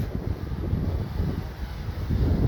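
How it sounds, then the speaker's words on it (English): A survey drone lifts off to fly an 18-point programmed mission, giving a steady, fairly loud whirring drone with rough wind-buffeted rumble throughout and no voices. "See, the drone will take off."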